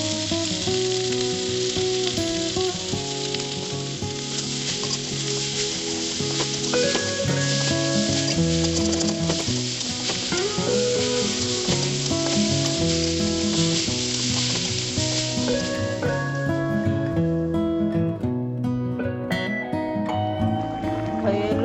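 Kuchia fish curry sizzles and fries loudly and continuously in a pan, a dense steady crackle with stirring noises throughout, the hiss easing slightly toward the end.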